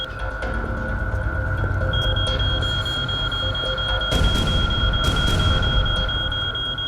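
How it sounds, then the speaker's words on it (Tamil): A machine gives off a steady, high electronic beeping tone that starts about two seconds in and runs to the end, over a constant low room hum. "கண்டிப்பா மெஷின்ல ஏதோ பிரச்சனை இருக்கு. ஏன் பீப் சவுண்ட் வருது?"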